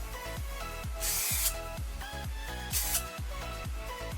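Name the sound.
hair wax spray being sprayed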